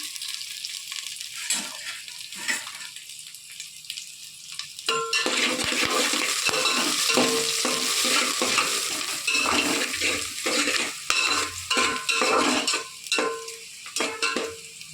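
Carrots stir-frying in a pan with onions, quiet at first with a few utensil taps, then a loud steady sizzle mixed with scraping and clinking as the vegetables are stirred, close up.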